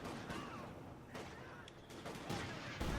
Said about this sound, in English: the mortar just throwing shots all over the place